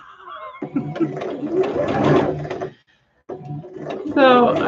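A domestic sewing machine runs zigzag stitches in two close bursts of rapid mechanical chatter separated by a brief silence, with a person speaking quietly alongside.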